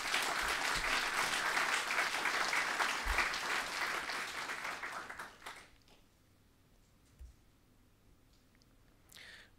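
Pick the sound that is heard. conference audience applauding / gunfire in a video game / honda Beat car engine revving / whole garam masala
conference audience applauding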